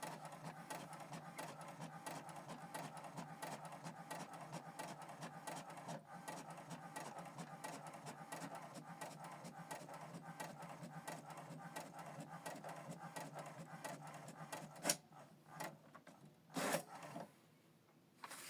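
An HP printer runs through a document with a fast, steady mechanical rasping and clicking that continues for a long stretch, then ends in a few louder clunks and pauses, fairly faint and with no talking.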